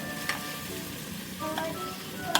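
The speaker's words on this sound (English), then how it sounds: "Then frying until you can eat them." Ramen toppings sizzling and crackling steadily in a hot pan, close by, with a few light scraping stirs.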